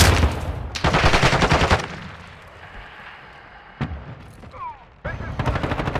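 Loud automatic rifle bursts rip out in Call of Duty: Modern Warfare II during a Headquarters match in Shoot House, separated by a quieter stretch with a single sharp shot and faint game chatter before firing resumes.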